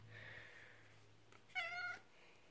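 A pet cat kept indoors at night gives one short, clear meow close by, preceded by a soft, fainter mew against a low background hum.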